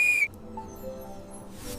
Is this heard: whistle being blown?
yes